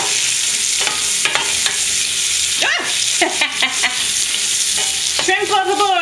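Firecracker shrimp sizzle loudly in a hot pan while being stirred, with close scraping and clattering of the utensil over a constant frying hiss.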